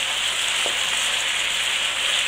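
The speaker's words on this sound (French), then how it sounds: "maintenant on va mélanger et laisser cuire pendant environ encore 5 minutes le temps que les oignons deviennent translucides" Onions and garlic frying in a saucepan give a steady, close, even sizzle that fills the whole moment, with no voices over it.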